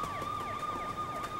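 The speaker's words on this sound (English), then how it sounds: "Sirens." Emergency sirens wail close and loud in a fast, repeating up-and-down sweep, with a steady tone layered underneath and nobody speaking.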